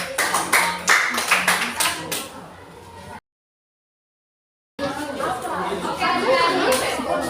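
Classroom students clap for about three seconds after a presentation, a busy patter of hands mixed with chatter, then a brief dropout before renewed noisy chatter and scattered claps.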